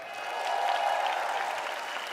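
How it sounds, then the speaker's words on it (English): Applause from a large crowd at the 65th Miss Universe preliminary competition, a full, continuous roar of clapping that swells slightly in the middle and stays steady to the end. "please give a round of applause to the president of the Miss Universe organization, Miss Paula Sugart."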